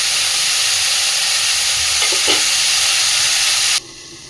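Potatoes and cauliflower fry in a covered pan, a loud, dense, continuous sizzle with a brief stir or clink midway, close up, cutting off abruptly near the end.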